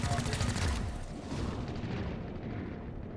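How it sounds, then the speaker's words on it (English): A pistol shot in the tactical game XCOM: Chimera Squad, a loud opening crack that fades into a long rumbling, echoing tail over three seconds. "Might be able to one-shot that with the pistol."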